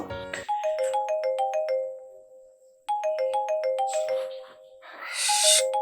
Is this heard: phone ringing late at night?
yes